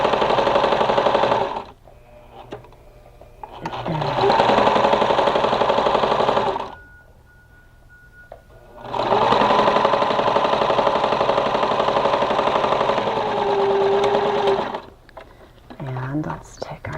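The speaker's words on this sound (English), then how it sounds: "I'm going to begin sewing, and I'm going to back tack along here. And let's continue to sew through all layers." A sewing machine runs through quilt-as-you-go layers of pre-printed wadding with fusible backing, in three loud, close bursts of fast mechanical whirring with quiet gaps between them and a brief back tack.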